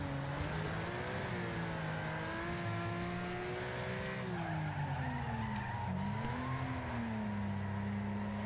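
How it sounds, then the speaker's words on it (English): A car skids through a spin-out in the Wreckfest demolition racing game, with a steady engine drone and continuous tire scrubbing, loud and close, lasting throughout. "We got a spin out."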